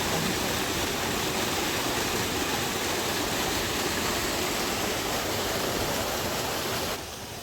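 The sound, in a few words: waterfall at Taginis Falls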